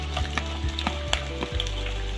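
Onion hits hot oil alongside ginger and garlic for soya chunks manchurian, a close steady sizzle broken by clattering spoon stirs and knocks against the pan.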